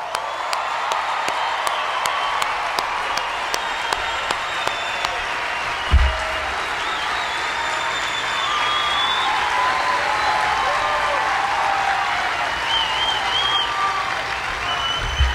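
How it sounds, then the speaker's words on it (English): Applause at a US Air Force basic military training coin and retreat ceremony, a large outdoor crowd clapping steadily and at length, with a few low thumps and faint cheers mixed in. "Let's give them a big round of applause."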